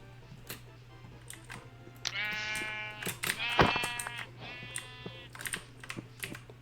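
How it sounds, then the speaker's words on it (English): Sheep bleating in a game, several wavering bleats close by over a steady low hum, mixed with scattered clicks of keyboard typing. "I hear you, sheep."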